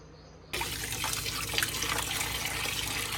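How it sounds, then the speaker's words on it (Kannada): Tap water runs steadily over about a kilo of fresh mutton as it is washed, a constant close splashing and trickling that starts abruptly and continues without pause, with no voices. "ನೋಡಿ, ಫ್ರೆಶ್ ಮಟನ್ ವಾಶ್ ಆಗ್ತಾ ಇದೆ."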